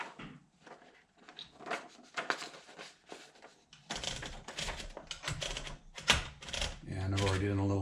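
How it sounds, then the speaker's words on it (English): Keys strike one after another on a 1968 Smith-Corona Sterling manual portable typewriter, fast close clacks with a louder burst and a carriage-return ratchet near the end, with some talk underneath early on. "Now let's load some paper and do some typing to show you the operation."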